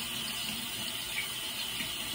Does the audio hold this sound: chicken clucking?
no